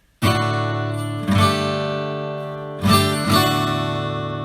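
Acoustic guitar strumming the chords of a song in four strong strokes, each left ringing and fading before the next, played alone with no voices.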